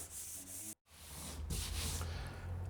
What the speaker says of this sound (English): the first of those is to sand it smooth